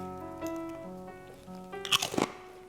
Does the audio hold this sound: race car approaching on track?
no